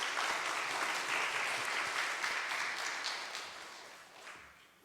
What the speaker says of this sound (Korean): 박수라도 한번 치겠습니다